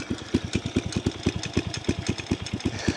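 An old banger of a small motorbike, a Honda Monkey, idles through its exhaust with a steady, rapid, slightly uneven low thumping, heard close up with no talking over it.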